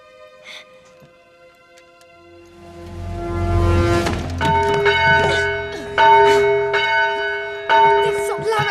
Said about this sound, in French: Fais sonner cette cloche et tu seras mienne.